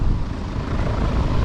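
A Piper Cherokee light airplane engine runs steadily while taxiing, a continuous close rumbling drone that stays even throughout, with no talk.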